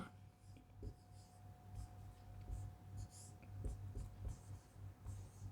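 During a maths lesson on LCM and HCF, an answer is written out in faint, close scratchy strokes, repeated in short bursts over a steady low hum and a thin electrical tone.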